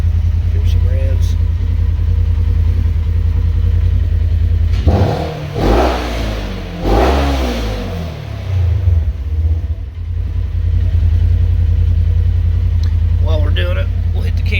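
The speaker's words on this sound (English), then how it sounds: "Here's some revs." A Polaris RZR UTV engine revs up twice in quick succession, rising and falling pitch, over a steady idling rumble; close and loud, no talking.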